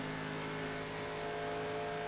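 Race car engine drones in an online racing video game, a steady sustained motor tone with a constant hum and no talking.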